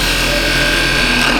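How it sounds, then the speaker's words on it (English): Skew chisel held flat on the tool rest, cutting a groove into a spinning wooden cylinder on a lathe: a steady, continuous scraping hiss over a constant motor hum, close and fairly loud throughout. "I'm just going to use a skew chisel just flat on the tool rest to put a bit of a groove in here"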